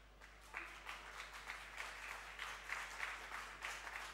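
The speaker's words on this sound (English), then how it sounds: "please give a big round of applause." An event audience gives a round of applause after a startup pitch, an even wash of clapping from many hands that holds steady at a moderate distance, somewhat soft in level.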